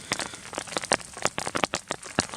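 Rain drums on a camping shelter by an alpine lake during a backpacking rainstorm, a dense patter of sharp drops striking close overhead, loud and irregular, with no voices.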